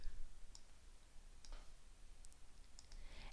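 Several short, faint mouse clicks sound one after another at a computer, a sparse irregular run of crisp ticks over a quiet hiss with no talking.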